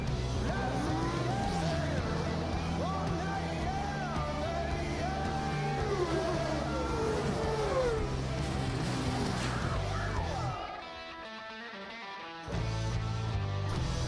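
Engines roar continuously through a video game trailer for The Crew 2, with racing vehicle noise layered over a music bed; a brief drop near the end before the loud mix resumes.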